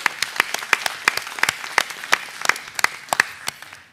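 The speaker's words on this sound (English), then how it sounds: "Let's give them a round of applause" A small audience at a board meeting gives a round of applause, distinct individual claps in a loose, uneven rhythm, moderately close and fairly sparse.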